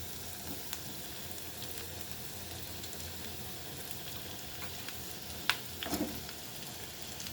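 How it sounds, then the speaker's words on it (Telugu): Two medium onions fry in a spoonful of oil in a pan, giving a steady soft sizzle throughout, with a brief utensil clink and stir near the end and no voices. "ఒక స్పూన్ ఆయిల్ వేసానండి. అందులో ఉల్లిపాయలు వేసేస్తున్నాను."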